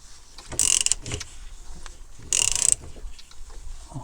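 A wrench loosens the filter cartridges on a Chevrolet Captiva during an oil and filter change, giving two short, bright bursts of ratcheting, grinding metal about two seconds apart, close by with quiet in between.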